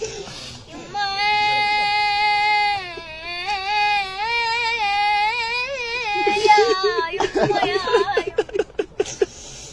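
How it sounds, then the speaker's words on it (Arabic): A young boy cries loudly in long, wailing sobs with strained, wavering pitch, breaking into choppy gasping sobs toward the end. "أول مرة يبكي بصوت عالي"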